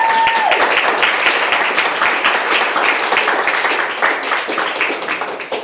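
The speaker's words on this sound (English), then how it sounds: "Let's have another round of applause for Marcus." An audience at a poetry slam tournament gives a round of applause, a burst of dense clapping that starts strong and slowly thins toward the end, with a short tone sounding at the very start.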